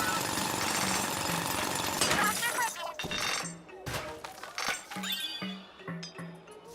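Drilling in the video game Splatoon Raiders: a dense, loud grinding roar for the first few seconds, then breaking into choppy bursts, crunches and clinks with short pauses between them.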